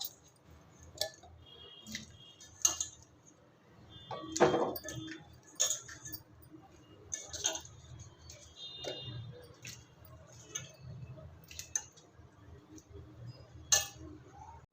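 Chopped taro (gaderi) pieces dropped into a pan: scattered soft taps and light clinks, one fuller thud and sizzle midway, quiet and close, with sparse small ticks continuing afterward.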